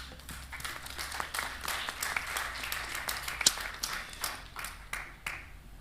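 An audience applauds a speaker at a talk on digital mediators and advisors, with fairly faint, scattered clapping from a modest crowd that continues steadily throughout.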